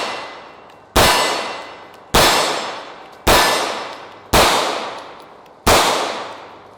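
Five loud, sharp Hi-Point pistol shots fired at a target, spaced roughly a second apart, each crack followed by a long ringing decay, with no talking.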